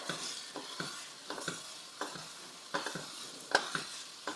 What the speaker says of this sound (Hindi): साथ साथ हम चम्मच चला रहे हैं और खोया भी हमारा देखें साथ साथ मेल्ट हो रहा है